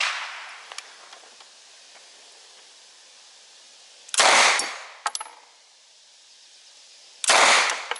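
Two short, loud bursts from a Sterling police carbine, each a dense rapid volley lasting about half a second, a few seconds apart, with fainter clicks and handling noise between them.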